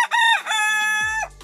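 A farm's main flock rooster crows once, loud and close, a single sustained cock-a-doodle-doo with a rising start and a falling, tapering end, heard alone.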